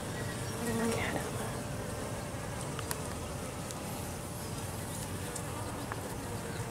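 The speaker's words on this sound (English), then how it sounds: "Look at all the bees." Honeybees buzz steadily at an open hive during an inspection, a dense close swarm drone that fills the whole stretch with a few faint clicks and bumps.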